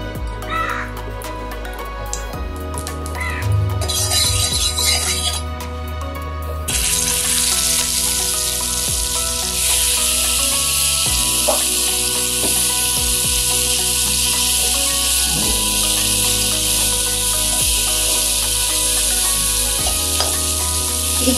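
Brinjal frying in oil in a hot kadhai over a medium flame: after a few quiet seconds a loud, steady broadband sizzle begins and continues to the end, with music playing underneath.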